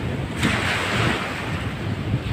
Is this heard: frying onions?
no